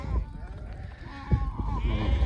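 A sheep bleats a few times at close range over steady rumbling background noise on a farm with a flock of sheep, and voices can be heard faintly around it.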